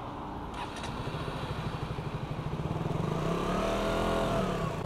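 A motorcycle ridden by a learner idles with a pulsing engine chug, then revs up into a rising, louder drone as the gear changes.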